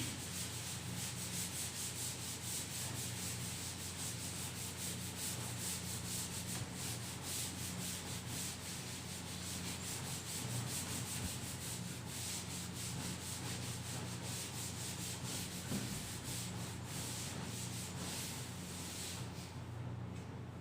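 Steady rubbing of an eraser across a classroom board, a continuous dry scrubbing that runs on evenly and close for about twenty seconds with no talk over it.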